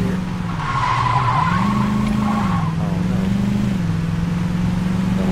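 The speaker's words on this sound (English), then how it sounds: "Why there's so many goddamn loud cars around?" Loud, continuous tire squeal as cars skid in the video game Saints Row 2, with engines droning underneath and the squeal's pitch wavering over several seconds.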